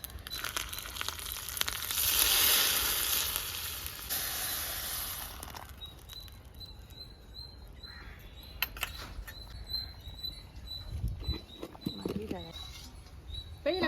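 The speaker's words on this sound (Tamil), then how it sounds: "கடுகு உளுத்தம் பருப்பு போட்டு இதை வந்து நம்ம தாளித்து கொட்டி இறக்கிட வேண்டியதான்" Mustard seeds and urad dal splutter in hot tempering oil in a clay pot over a wood-fired stove while sambar is made. A continuous crackling hiss carries scattered pops, and birds call faintly in the background.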